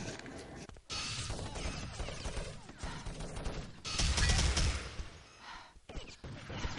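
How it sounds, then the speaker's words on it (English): G36 rifle fire in a competitive online shooter match, heard as bursts of sharp gunshots and crashes with brief gaps, loud and busy throughout. "Small killer making the little shots there with his G36."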